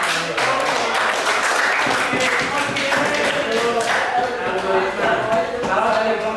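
A classroom at a vocational high school breaks into applause, with dense, steady clapping from many hands holding at an even level for several seconds, while voices mingle in the background.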